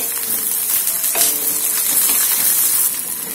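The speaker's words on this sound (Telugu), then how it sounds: "ఒక పాన్ లో నూనె వేడి చేసుకుని ఉల్లిపాయలు జీలకర్ర వేసుకుని లైట్ గా ఫ్రై చేయాలి" Onions and cumin seeds fry lightly in hot oil in a pan for a green mango and mint chutney, giving a steady close crackle and sizzle with a few small stirring clinks, no talking.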